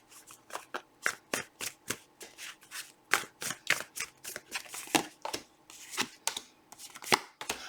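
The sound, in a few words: shuffling a deck of tarot cards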